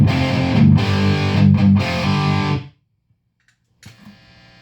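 A distorted electric guitar played through a Randall RG100ES amp with no noise gate rings out in heavy, harmonically rich chords and bends, then cuts to silence before a faint buzzy hum and a brief low scrape of noise return.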